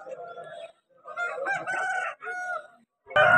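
A rooster at a Vijayawada fowl market crows in a few loud, close bursts with short gaps between them, followed by an abrupt noisy thump at the end.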